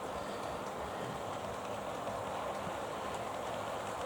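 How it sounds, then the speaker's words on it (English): A DCC model railway train pulling away on an automatic signal stop-start layout, heard as a steady, even rolling hum with no clear rhythm, fairly close and unbroken. "There's the click, and off goes the train."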